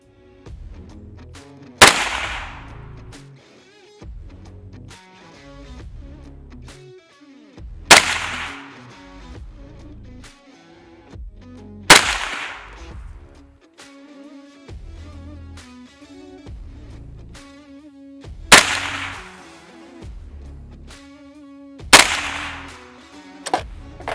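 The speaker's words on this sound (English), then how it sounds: "So let's get to shooting." Single rifle shots of AAC 300 Blackout ammunition fired outdoors during accuracy testing crack loudly about every four to five seconds, six in all, each with a short decaying echo and quieter handling between.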